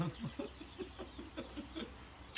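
A junglefowl clucking, a quiet series of short, evenly spaced clucks from a single bird, with no one speaking.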